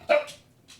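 A dog gives a single sharp bark up close, followed by a softer fading yelp and a faint breathy trailing sound, with quiet room background around it.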